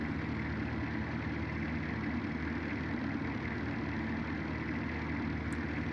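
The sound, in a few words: V12 car engine of an Automation mod in BeamNG video game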